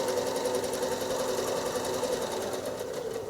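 A sewing machine runs free motion quilting stitches through fabric, a steady rapid mechanical chatter of needle strokes that continues evenly and close up without pause, with no talking.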